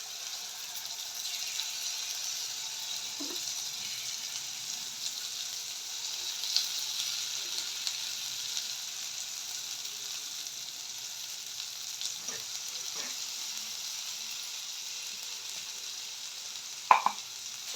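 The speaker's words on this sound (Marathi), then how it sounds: "तर खोबरं आणि काजूचं वाटण टाकते." Coconut and cashew paste for a chicken curry frying in a pan gives a steady, moderate sizzle throughout, with a few soft clinks and scrapes of stirring near the end.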